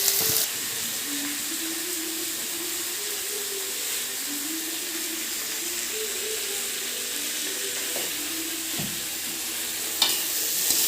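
Local chicken curry fries in a pan as it is stirred, a steady close sizzle lasting throughout with a few soft scrapes of the spoon and a sharper clink near the end.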